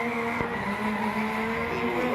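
A drift car's tyres squeal steadily as it skids at a D1NZ pro drifting event in Wellington, with a sustained engine roar throughout and no pause.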